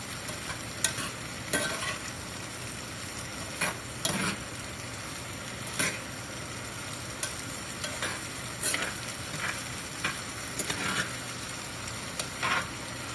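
Hushpuppy batter fries in hot grease with a steady, fine crackling hiss, punctuated by occasional louder pops and scrapes as the pieces are stirred, with no talking.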